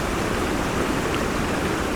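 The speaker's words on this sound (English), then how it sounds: "the river or the beck with quite a lot of water coming down" Aira Beck, a river swollen with plenty of water near the Aira Force waterfall, rushes in a dense, constant roar, close and loud, with no voices.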